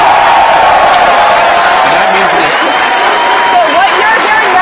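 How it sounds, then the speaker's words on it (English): A large crowd cheers and murmurs at a SpaceX CRS-8 launch viewing event as the re-entry burn is confirmed, a steady wash of distant whoops and babble with someone talking over it. "So what you're hearing now is the crowd reacting to confirmation that the re-entry burn"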